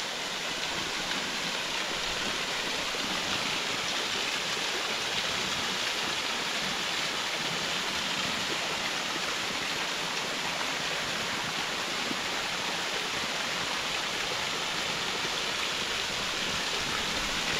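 Waterfall and stream water pour steadily on a farm lot in the Philippines, a dense, even rushing wash that holds unbroken and fairly close throughout, with no voices.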